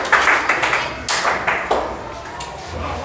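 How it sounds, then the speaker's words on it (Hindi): Audience in a maths quiz class clapping for a correct answer, a burst of sharp, uneven claps from several people that thins out after about two seconds, with a voice speaking over it. "कली कुमारी के लिए एक जोरदार ताली होना चाहिए"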